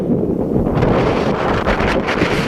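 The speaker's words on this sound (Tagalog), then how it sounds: "Liwalas at napakalakas ng hangin." Strong wind on a grassy hilltop at Bulalacao Hills, Libmanan, Camarines Sur, roars across the microphone in a loud, continuous buffeting rush with no voices.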